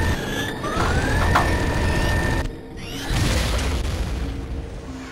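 Grenade blasts boom in the Turok 2: Seeds of Evil video game, loud rumbling detonations with rising electronic tones over them, a brief lull, then another heavy burst.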